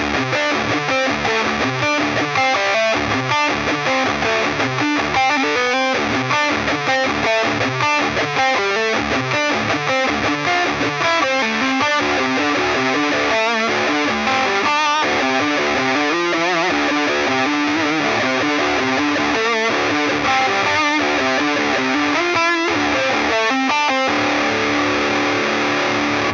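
A heavy, distorted electric guitar chugs through a driving metal riff, dense and loud throughout, with palm-muted rhythmic stabs and sustained crunchy chords.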